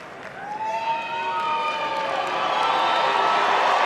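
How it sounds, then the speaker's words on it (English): An arena crowd cheers and whoops during the Best in Show judging at the 2018 Westminster dog show, swelling gradually into a sustained roar. "The crowd loves Boone."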